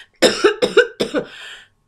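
A person coughs three times in quick succession, close to the microphone and loud, with a short trailing throat sound after the last cough.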